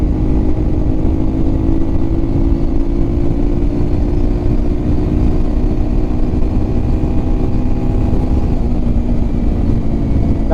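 An old, formerly abandoned Yamaha TW200 motorcycle accelerates toward top speed on a street, its engine holding a loud, steady drone with a slowly rising whine and wind rushing past. No one speaks.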